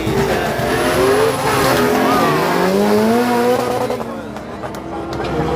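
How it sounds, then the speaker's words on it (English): A turbo V8 drag car launches at a drag day, its engine roaring loud and close with tire squeal as it accelerates away and fades off. "I think there's a V8 motor in that."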